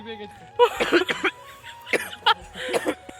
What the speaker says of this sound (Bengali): কথা বললেই কাশি হয়